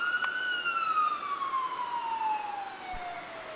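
An ambulance siren sounds as a single long, steady electronic wail that slowly falls in pitch, loud and fairly close, with no talk over it.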